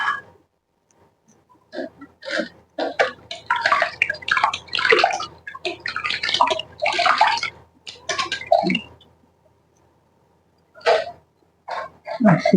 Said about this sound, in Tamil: அரிசி கழுவியாச்சு